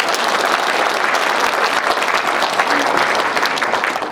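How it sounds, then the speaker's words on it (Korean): A large crowd at a civic groups' New Year gathering claps in self-congratulation, a loud, continuous wash of applause that stays full and unbroken throughout, with no voices rising above it. "자축하는 박수를 한번 보내주십니다"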